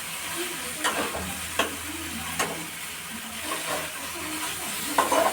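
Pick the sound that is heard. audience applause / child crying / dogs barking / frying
frying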